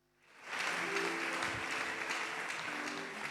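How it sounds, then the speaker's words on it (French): A church congregation breaks into loud, sustained applause acclaiming the Lord, rising quickly after a brief quiet start and holding steady to the end. "Nous acclamons le Seigneur."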